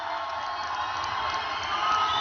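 A large political rally crowd in Reno, Nevada cheers continuously, a dense wash of shouting and whooping that holds steady and swells slightly toward the end.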